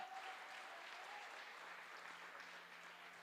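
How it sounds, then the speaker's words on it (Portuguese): Applause from a church congregation during a worship service, a steady even wash of clapping throughout, moderately distant and fairly quiet, with no voices standing out. "Dê um aplauso forte ao Senhor."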